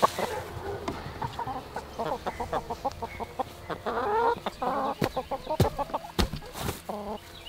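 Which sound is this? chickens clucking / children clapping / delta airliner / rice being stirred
chickens clucking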